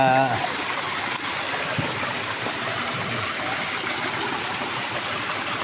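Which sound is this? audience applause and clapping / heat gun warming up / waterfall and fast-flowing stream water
waterfall and fast-flowing stream water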